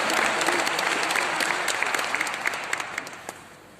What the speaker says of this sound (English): Welcome him with a very, very big round of applause, please.